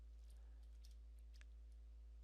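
Quick light keystrokes tap out a command on a laptop keyboard, a short run of soft clicks over a steady low electrical hum, close and faint, with no voices.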